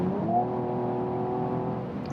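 An estate car accelerating at full throttle from about 180, its engine a smooth, rising drone heard from inside the cabin, steady and fairly subdued, with no speech.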